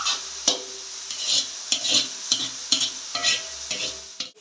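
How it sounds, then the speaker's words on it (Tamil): Onion, curry leaves and pandan leaves sauté in a pan for a Jaffna chicken curry, a loud close sizzle broken by rhythmic scraping strokes of a spatula roughly every half second, with no talk. "இப்போ பார்த்தீங்கன்னா கருவேப்பிலையும் ரம்பையும் போட்டு வதக்குறோம்."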